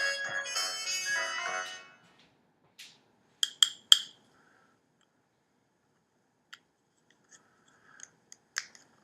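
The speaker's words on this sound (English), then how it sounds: "So Japanese scissors, looking like a bird, and musical at that." A metallic whirring flourish opens, then after a pause comes a quick cluster of crisp snips from bird-shaped Japanese scissors, followed by a few sparse, faint clicks.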